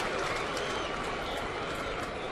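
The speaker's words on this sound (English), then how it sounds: "a mock cheer from the crowd" A baseball crowd lets out a sustained mock cheer late in a tied 2009 Minnesota Twins game, top of the eighth inning. It is a steady, dense wash of stadium noise, fairly loud, with no distinct voices above it.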